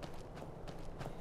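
Horse hooves galloping in the Skyrim video game, a steady rapid clip-clop rhythm of repeated hoof beats, moderately loud and close, with no talking.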